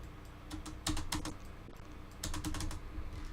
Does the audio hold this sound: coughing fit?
no